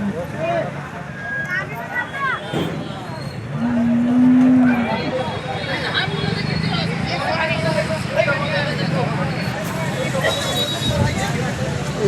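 A cow lets out a low moo at the Sangola livestock market amid outdoor noise, with people chatting and passing traffic in the background.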